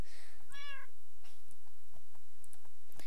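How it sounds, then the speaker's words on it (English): A cartoon cat in a village video game meows once, a short clear mew near the start, followed by faint game clicks and ambient tones with no talking. "Yes, meow, kitty."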